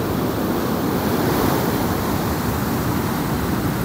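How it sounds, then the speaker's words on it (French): Strong wind gusting steadily by the sea on a stormy Sardinian coast, a dense continuous roar buffeting the microphone with surf mixed in, loud and unbroken. "je suis en plein vent là, ça souffle"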